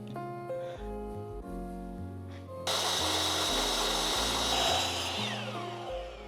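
A saw bogging down while cutting through a thick metal bar, a loud broadband grinding and hissing that surges abruptly midway and stays harsh, over a strained steady drone.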